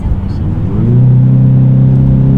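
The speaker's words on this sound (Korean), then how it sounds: "배기 사운드가 아주 아주 묵직하게 쫙 들려주죠" A Genesis G70 2.2 diesel sedan revs in sport mode up to a deep, heavy droning roar from its virtual exhaust sound that holds steady and loud, with a faint voice at the start.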